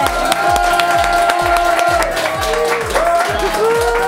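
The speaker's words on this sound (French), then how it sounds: "Je vous demande un tonnerre d'applaudissements pour le beau Alexandre Pelle, s'il vous plaît" A studio audience at a French comedy stage show greets a guest with loud, continuous clapping and cheering, a dense crowd roar with music playing over it throughout.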